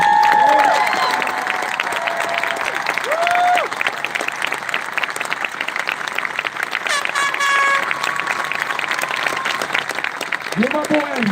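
Loud, sustained applause from an outdoor rally crowd after a speech at a Portland, Oregon march, dense clapping with scattered cheers and a voice speaking over it.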